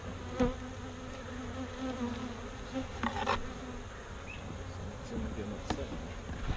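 Bees buzz loudly inside an opened beehive, a dense continuous drone close to the microphone with individual insects passing, while people talk faintly in the background.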